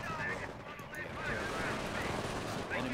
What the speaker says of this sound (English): MG42 eats through him